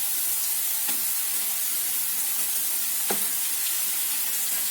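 Minced meat added mid-cooking to a pan, giving a steady close hissing sizzle with a few brief louder crackles and stirring scrapes.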